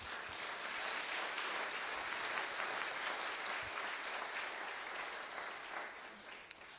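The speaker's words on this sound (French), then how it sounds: "Est-ce qu'on peut acclamer pour les psychologues ce matin?" Audience at a church gathering applauding steadily, a dense continuous wash of clapping lasting several seconds with no talk over it.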